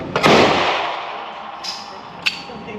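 A single sharp gunshot cracks loudly at an outdoor gun range, its echo trailing away, followed by two fainter distant shots from other shooters.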